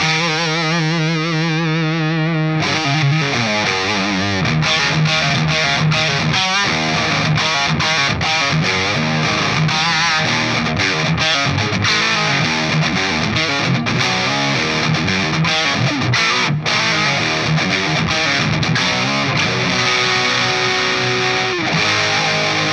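A 1981 Kramer Voyager electric guitar with a single pickup, played through a Marshall JVM 205 head into a Vintage 30 cabinet miked with a Shure SM57: a held chord opens a fast, loud, distorted riff of choppy palm-muted notes.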